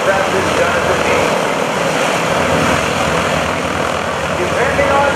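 A Texan propeller advanced trainer aircraft at the 2011 Rhode Island Air National Guard open house airshow gives a loud, steady, close engine-and-propeller roar that holds for the whole stretch, with a voice faintly audible beneath it.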